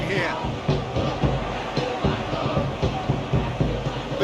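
Stadium crowd noise in the football video game eFootball PES 2021, a steady roar with swelling cheers and rhythmic chanting, heard under a match commentator's talk.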